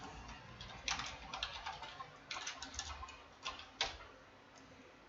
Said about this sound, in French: Si ici, je tape quelque chose